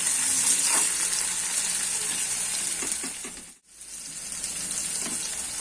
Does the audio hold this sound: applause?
no